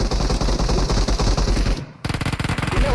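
M249 machine gun fire in a video game: loud, rapid automatic bursts that stop abruptly for a moment, then resume just as fast and close.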